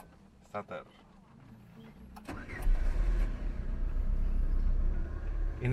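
A Peugeot car engine is cranked by its starter and catches, settling into a loud, steady idle that runs to the end, with a brief voice just before the start.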